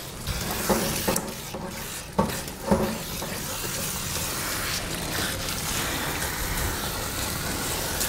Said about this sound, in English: this is just a quick rinse, ready for our second shampoo